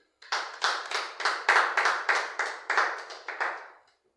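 A church congregation claps in acclaim, about a dozen steady, evenly spaced claps that start abruptly and fade slightly toward the end, close and clear, with no voices.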